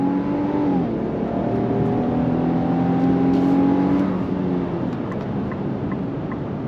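A 2025 Infiniti QX80 full-size luxury SUV accelerates at full throttle, a steady loud engine drone with smoothly rising tones and a brief shift dip, heard from inside with no talking.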